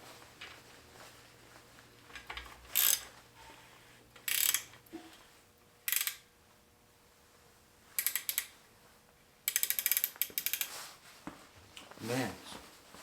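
Ratchet clicking in several short bursts as it turns a K-series engine over by the harmonic dampener bolt, close up, with pauses between bursts and faint background hum.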